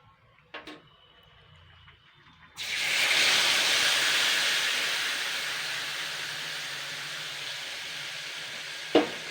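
Spice paste hits hot oil for a boiled potato and raw egg fritter dish: a few soft knocks, then a sudden loud, steady sizzle that stays close and continuous, with a sharp clack near the end.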